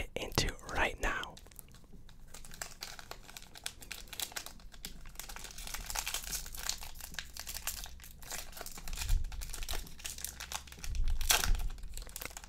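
Panini Contenders football card pack being opened close up, with crinkling, tearing wrapper foil and soft rustling handling noises, punctuated by a few louder crunches, under quiet whispered talk.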